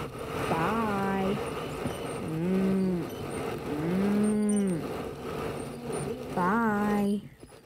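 A cow moos four times, loud and nearby, each call long and low with short pauses between, over a rumbling engine background.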